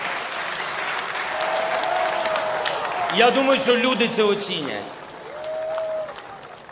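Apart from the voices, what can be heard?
scattered applause from the inauguration audience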